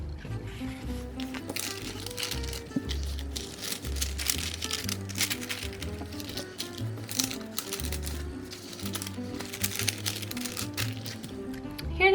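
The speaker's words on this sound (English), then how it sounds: "So we can see how the sticker sheets look like inside the glassing bags." Glassine bags holding sticker sheets are handled close up, giving steady crinkling and rustling with soft taps throughout, over a low background hum.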